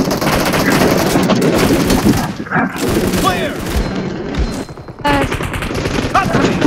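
Rapid bursts of PUBG gunfire, dense and loud, clatter through most of the stretch with booming hits, while excited voices shout and talk over the fighting.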